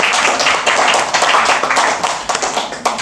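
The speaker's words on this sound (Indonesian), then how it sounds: "Kita berikan tepuk tangan." Clapping from a class audience in a university discussion session on Indonesian education philosophy, dense and steady throughout, loud and close with many hands at once.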